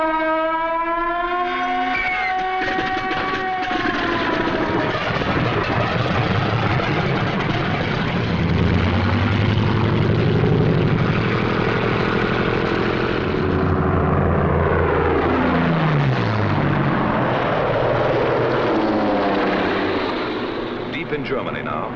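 World War II fighter aircraft, Bf 109s and Focke-Wulf 190s, droning piston engines in a loud sustained roar that swells and shifts in pitch as planes pass, with a narrator speaking over it.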